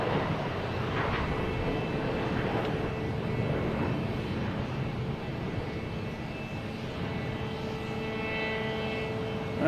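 An American Airlines Embraer E175 regional jet heads out at Boston Logan, its engines making a steady, fairly loud roar that holds for about ten seconds with no voices.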